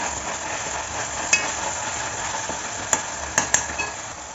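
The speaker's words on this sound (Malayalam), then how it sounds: "നമ്മളിതാ ചിക്കൻ വേവിച്ചിട്ട് ചട്ടിയിലേക്ക് തന്നെ വെളുത്തുള്ളി ഇഞ്ചി ഇട്ട് കൊടുത്തുണ്ട്" Chicken frying in a pan with garlic and ginger, a steady soft sizzle with a few sharp clinks of a utensil against the pan, no talking.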